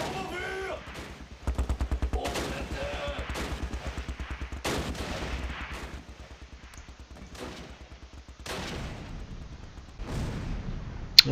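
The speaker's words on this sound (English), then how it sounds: "Oh, it's actually their mortar." Mortar and small-arms fire rattle through a battle in Close Combat: Last Stand Arnhem, with bursts of rapid automatic shots and sharper distant blasts at intervals.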